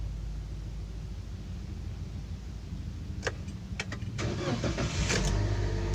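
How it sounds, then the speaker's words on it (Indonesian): A 2017 Daihatsu Sigra R engine cranks and catches with a few sharp clicks, then settles into a steady idle over a constant background hum, with no voices. "Ini mesin kita hidupkan ya."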